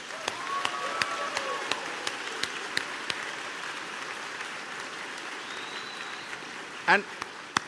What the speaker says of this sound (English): Let's show them a round of applause